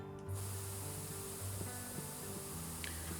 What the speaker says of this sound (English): Let's try and do this entire thing with spray paint.